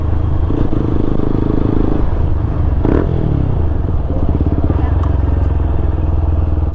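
A TVS Apache 160 4V motorcycle fitted with a full-system aftermarket exhaust idles and revs up close, giving off a loud, bassy, steady rumble with a brief blip of throttle partway through.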